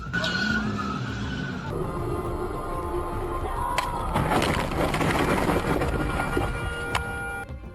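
A pickup truck collides with a motorcycle on the road. There is a grinding, scraping skid with sharp cracking impacts, heard through steady traffic noise.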